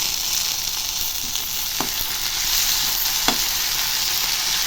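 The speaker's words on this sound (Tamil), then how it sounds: "கொஞ்சம் நம்ம எண்ணெயிலே இதை வதக்கிடலாம்." Ginger garlic paste sizzles and fries in hot oil in a pan, a continuous steady hiss with a few soft stirring scrapes, with no voices.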